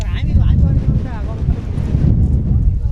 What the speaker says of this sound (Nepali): यो मेरो माइक हावाले उडाइदिएला जस्तो भयो यार।